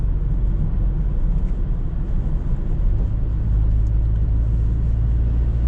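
Steady, loud low rumble of a 1992 Nissan 2.0-litre naturally aspirated carbureted engine pulling uphill at a constant 2000 rpm under steady throttle, heard from inside the car with an even drone and no revving.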